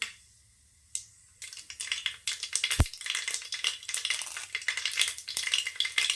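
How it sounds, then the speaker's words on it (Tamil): Mustard seeds and urad dal hit hot oil in a pan for mutton fry. After a quiet start and a sharp knock comes crackling, popping sizzle with spoon scrapes and rattles, and nobody speaks. "எண்ணெய் சேர்த்துக்கலாம். கடுகு, உளுத்தம் பருப்பு போட்டுக்கலாம்."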